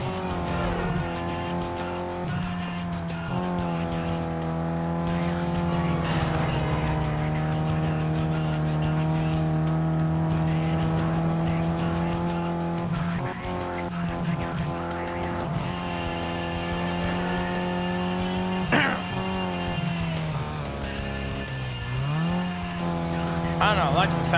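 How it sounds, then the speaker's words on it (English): Turbocharged stock car in Need for Speed Most Wanted (2005) racing hard, its engine droning loud and steady through long held gears with brief drops at shifts and occasional tire squeal, continuous throughout. "I like the sound of the turbo for this car, it's pretty nice"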